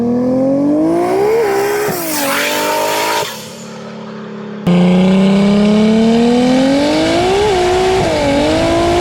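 A 1300-horsepower 2JZ-engined Polaris RZR accelerates hard, its engine note climbing loud and close through the gears with brief dips at the shifts and a strong surge after a pause.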